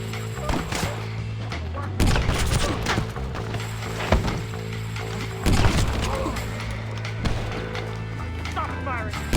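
Gunfire in the Western game Red Dead Redemption, with repeated loud, sharp bursts at about two, four, five and a half and seven seconds over steady game music and background clatter.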